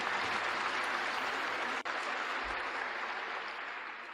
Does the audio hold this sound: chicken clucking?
no